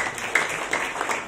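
Church congregation clapping, a brief burst of applause with several sharp claps, fairly close and steady.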